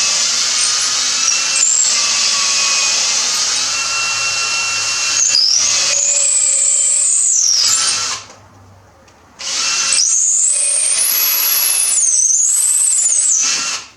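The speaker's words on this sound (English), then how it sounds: "Hold it square and start drilling" A power drill bores a hole for a Ford Explorer grill guard, a loud, close, sustained whine whose pitch rises as it bites, broken by a brief stop before drilling resumes.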